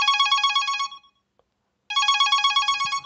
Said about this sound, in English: I can show you the sounds. Let's do ring one.